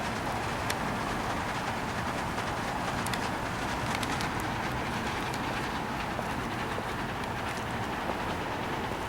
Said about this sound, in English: That noise you're hearing is air that's exhausting out one of the windows on the 5th floor.